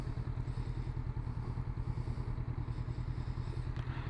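A 2019 Honda CB500F motorcycle engine runs steadily nearby, a throbbing, even pulse of low beats with a faint clatter and no talk.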